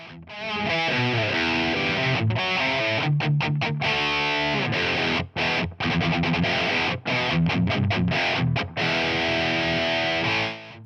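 Loud, heavily overdriven electric guitar through a cranked Marshall JCM900 tube amp, chugging out crunchy riffs with brief stops and choppy muted gaps, saturated and close-up, recorded in a studio.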